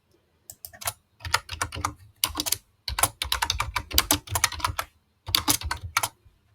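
Rapid bursts of typing on a computer keyboard while entering a product name into a SharePoint list, clattering keystrokes in several clusters separated by short pauses, close and clear with no talking.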